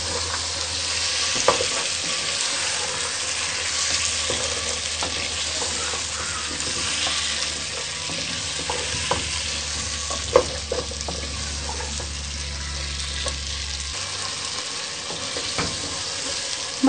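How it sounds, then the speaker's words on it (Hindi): Potatoes and peas fry in a pan with a steady broadband sizzle, punctuated by scattered clinks and scrapes of a spoon stirring, while a low hum runs beneath for most of the clip. "मटर को हम अच्छे तरीके से भूनेंगे"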